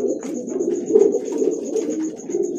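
Pigeons courting as a newly paired couple: continuous soft, throaty cooing close by, over a faint steady high background tone.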